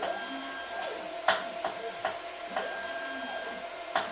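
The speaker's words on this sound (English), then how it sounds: "one of them makes a little bit of a clunking noise when it's going backwards" A gobo tracer stage light with a moving head runs its motor backwards, producing a low whirring hum broken by several irregular soft clunks and knocks, close and fairly quiet, with no talk.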